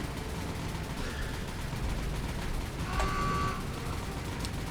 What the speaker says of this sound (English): We've got a very, very nice strafing run onto this destroyer as well.